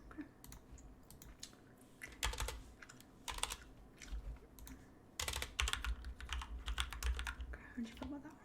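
Close, soft typing on a computer keyboard comes in irregular bursts of quick key clicks, with quiet whispered talk and faint mouth sounds between them.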